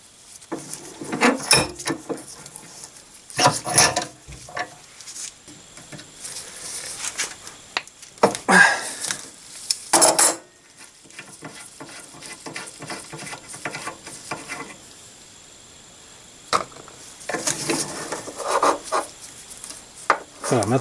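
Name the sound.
cleaning brake banjo fitting on Panhard Junior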